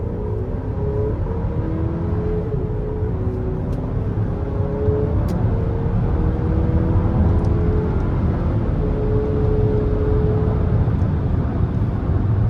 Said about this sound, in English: Now I'm going to put it into all-wheel drive mode, and then we're gonna see how it pulls getting on the interstate here.